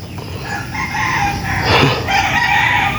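A rooster crows loudly at a farm with chickens and chicks, one drawn-out call rising and falling over a background of clucking fowl, close and clear.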